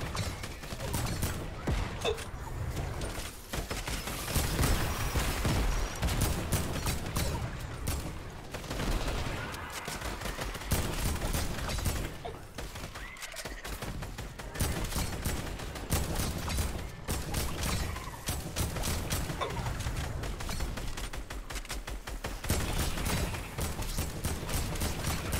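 Dense bursts of automatic gunfire from a Fortnite Horde Rush match, sustained rapid volleys with mechanical clicks, loud and continuous across the whole stretch.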